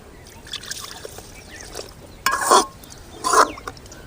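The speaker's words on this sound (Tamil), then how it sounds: "இதுக்கு போதுமான தண்ணி ஊற்றிக்குங்க." Water poured into a cooking pot while making aloe vera tamarind curry, in two short splashing bursts against a quiet kitchen background.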